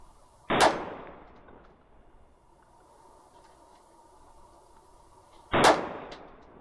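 Two sharp gunshots from a KelTec PMR 30 firing CCI Maxi Mag ammunition, about five seconds apart, each a loud crack with a short ringing decay, and quiet range ambience between them.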